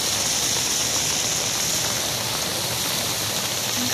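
Stormwater cascades down the new stairs in Ellicott City as a dense, steady rushing wash, close and even throughout with no talking.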